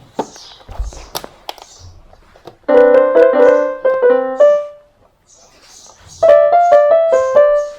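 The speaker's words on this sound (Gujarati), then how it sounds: "આ કેસીઓ છે" A Casio electronic keyboard plays two short bursts of bright, sustained synth notes in quick succession, separated by a gap, with faint taps and clicks before and between them.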